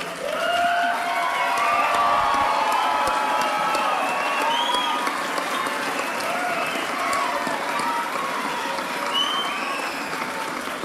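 Sustained applause and cheering from a commencement audience in a theater honoring graduates, a dense, steady crowd roar with whoops over continuous clapping throughout.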